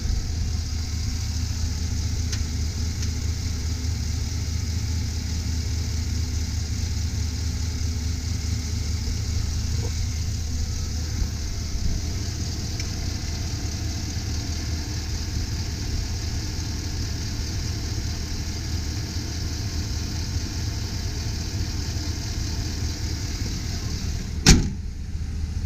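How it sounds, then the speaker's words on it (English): Steady, even idle from the engine of a 2005 Chevy Silverado 2500 HD 4WD pickup, a low continuous rumble running smoothly throughout with no roughness, plus a brief sharp knock near the end. "As you can see, motor's running nice and smooth."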